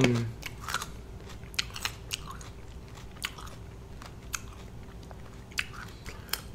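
A raw carrot bitten and chewed close up, with a string of sharp crisp crunches at an uneven chewing rhythm over quiet room tone.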